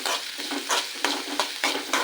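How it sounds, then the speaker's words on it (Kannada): Onion fried lightly in a pan while being stirred, rhythmic scraping strokes roughly every third of a second layered over a bright, continuous close sizzle. "ಇವಾಗ ಆನಿಯನ್ ಹಾಕಿಕೊಂಡು ಫ್ರೈ ಮಾಡಿಕೊಳ್ಳುವ"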